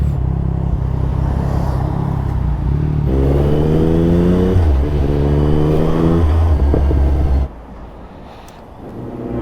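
Ferrari hypercar engine revving nearby, a loud steady rumble building into rising rev sweeps and shifts, then cutting off abruptly to a quieter hum.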